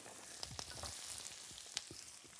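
Zucchini stir-frying in a hot pan for Sichuan noodle soup, a steady close sizzle with scattered crackles and soft clinks of the utensil against the pan, no voices.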